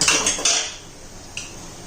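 A big spoon stirs cooked rajma through tomato paste in a metal pot, with a few bright clinks and scrapes against the pan close by, then a single lighter tap.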